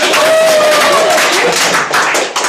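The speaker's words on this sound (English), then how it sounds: "You can continue clapping." A contest audience at a humorous speech club meeting claps loudly in a dense, continuous round of applause close by, with a voice calling out briefly over it.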